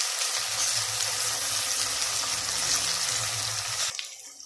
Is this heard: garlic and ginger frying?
yes